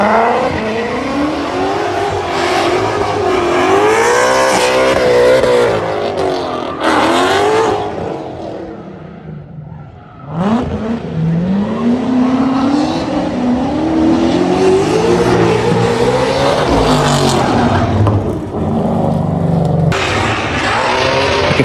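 Cars drift at a Mustang Week drag day at the track. Loud, strained engines rise and fall in pitch over long screeching tire squeals, with a short lull midway before the revving and skidding resume, close and continuous.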